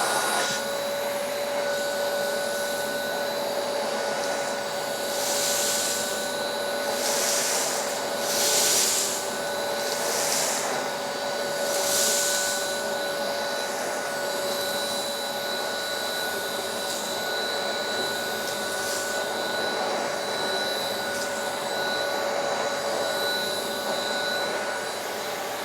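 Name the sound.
Truvox VTVE-C tub vacuum cleaner running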